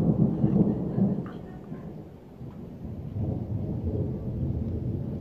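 Deep rolling thunder from a severe thunderstorm in South East Queensland, a loud sustained low rumble that swells, fades briefly, then builds again under steady rain.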